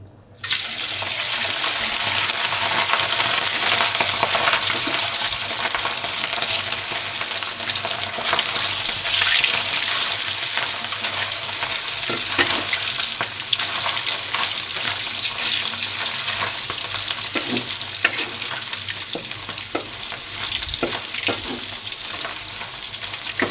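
Sun-dried pork fries in boiling oil over a medium flame, a loud, sustained crackling sizzle with scattered pops and occasional stirring, steady and close for the whole stretch.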